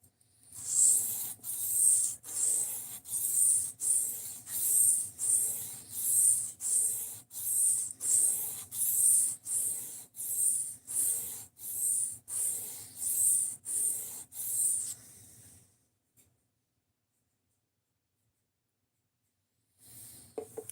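A knife drawn repeatedly across a sharpening stone until a burr forms, about twenty steady rhythmic hissing strokes, loud and close, before stopping into near silence with a small clatter at the end.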